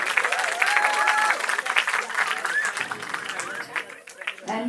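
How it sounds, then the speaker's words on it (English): A festival audience claps at the Colibri Spirit Festival 2025, loud at first and then thinning out into scattered claps and cheers near the end. "And you're allowed to clap."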